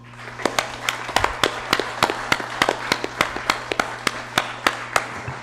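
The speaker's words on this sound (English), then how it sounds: "let's give them a round of applause" A small crowd in a legislative chamber applauds students with sparse, steady claps at a regular rhythm, distinct and fairly close, continuing throughout.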